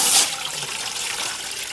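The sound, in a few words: water poured into a steaming pot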